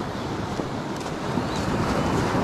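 Choppy sea waves wash continuously onto an early-morning beach, a dense, rumbling surf with wind buffeting the microphone and no voices.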